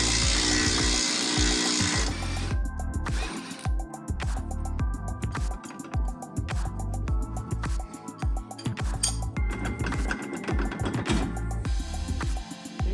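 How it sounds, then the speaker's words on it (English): A power tool fitted with a socket works a part loose on a mechanical job, its motor giving repeated whirring bursts broken by short pauses, with metallic clinks mixed in. "use some power tools."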